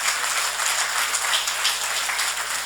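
Audience at a Sardinian football awards gala applauding, a dense continuous patter of many hands close and fairly loud, with no one speaking.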